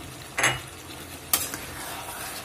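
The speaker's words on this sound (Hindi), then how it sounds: "मैं डालेंगे टमाटर और हरी मिर्च, इसको भी डाल के भून दें" Tomatoes and green chilies with ground spices including black pepper and cumin powder fry in a pan for a masala chicken, a soft sizzle broken by two brief scraping stirs of a spoon against the pan.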